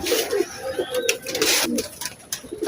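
Teddy breed pigeons cooing close by, a run of soft throaty coos that rise and fall with short pauses between them.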